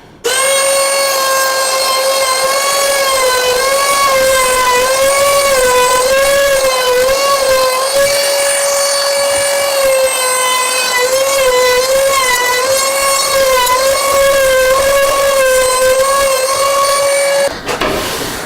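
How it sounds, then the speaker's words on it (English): A power tool rounds over the edge of a reclaimed scaffold board table top, giving a loud, steady high whine with a sustained pitch that wavers slightly as it cuts, running continuously before stopping abruptly. "let's round over this edge now."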